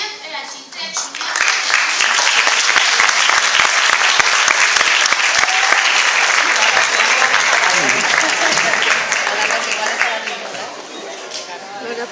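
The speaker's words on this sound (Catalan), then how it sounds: "Un fort aplaudiment per al xifre primer" Loud, sustained applause fills a school hall after a fourth-grade class performance at Colegio Santa Cruz in Mislata, a dense wash of many hands clapping that swells quickly and holds steady for about ten seconds before easing slightly.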